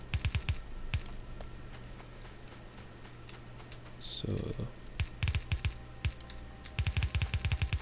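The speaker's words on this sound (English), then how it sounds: "Sure you'll hate the sound of that clicking very soon." Rapid mouse clicking and keyboard tapping while playing Factorio, bursts of quick sharp clicks close by with a pause in the middle, someone speaking briefly over them.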